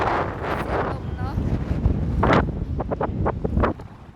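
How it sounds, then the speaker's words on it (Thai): Strong seaside wind buffets the microphone with a loud, steady roar, rising in gusty surges, while someone talks over it. "ลมเนาะ"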